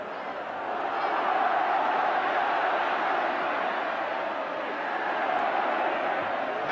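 A large football crowd at a 1983–84 Brighton & Hove Albion versus Liverpool match roars in a dense, sustained wall of cheering that holds steady from start to finish.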